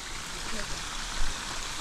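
Jungle river water flows in a steady broadband rush, close and continuous, with a brief swell near the middle.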